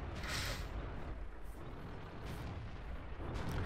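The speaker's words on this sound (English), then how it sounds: "So Nathaniel just plants another big hit straight through the front of his tank there." Tank cannon fire rumbles in World of Tanks during a KV-3 and T49 battle, a continuous heavy, booming low roar with distant blasts layered through it.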